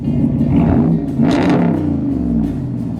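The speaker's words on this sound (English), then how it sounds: "So let's do a couple revs." A warmed-up 2019 Ram Rebel pickup's engine revving, a couple of sharp, loud throttle blips rising and dropping back to a low idle rumble, close up.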